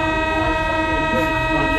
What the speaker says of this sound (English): if you ever wondered what a Paris metro is like, here it is.